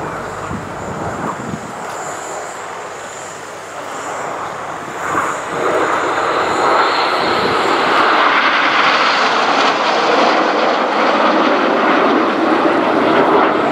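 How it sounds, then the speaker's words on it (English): Red Arrows display jets fly in their Concorde formation at the Royal International Air Tattoo air show in 2012, a loud, broad jet roar that swells as the formation nears and stays strong overhead, with no talk. "Ladies and gentlemen, this is Concorde."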